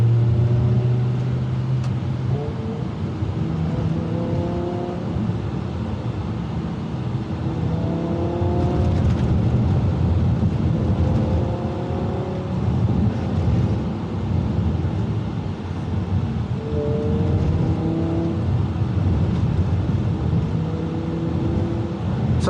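A BMW M5 with a V10 engine drives along English B roads, its exhaust note rising and falling through repeated gear changes, steady and prominent throughout with no talk.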